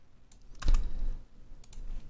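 A few close computer keyboard presses while working in Photoshop, a sharp cluster of clicks followed by lighter taps in a quiet room.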